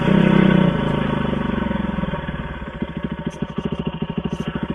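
Yamaha WR450F dirt bike engine running loud and close on a gravel trail, starting with a steady low drone and settling into a rapid, pulsing chug of firing strokes as the bike rolls along.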